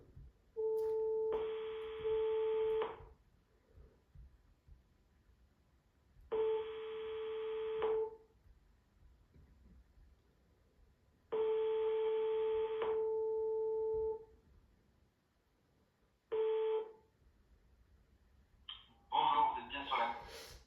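Unanswered outgoing call on a phone line: a steady two-tone ringback purr repeats in long bursts with silent gaps between them, clear and close, and a short burst of other noise comes at the end.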